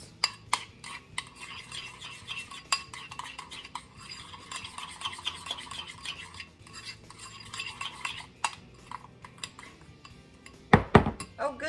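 A utensil stirs room-temperature cream cheese frosting for cinnamon rolls in a bowl, with soft repeated scraping and light clinks against the bowl, ending in a couple of louder knocks.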